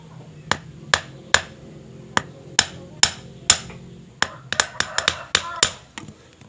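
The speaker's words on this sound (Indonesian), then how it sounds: "Mukulnya pelan-pelan sobatku, jangan sampai cepet-cepet kali, nanti panas merusak bajanya ya sobat ya." Hammer blows ring out on brake spring steel being shaped into a fishing hook, a dozen or so sharp metallic strikes, slow and evenly spaced at first, then quicker clusters, close and loud with no speech.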